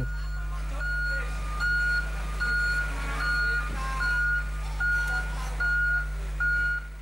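Trucks loaded with vegetables bound for Surabaya and Balikpapan roll onto a motor ship at a harbor dock, their reversing alarms sounding a regular series of about eight steady beeps over a low engine rumble and a reporter's voice.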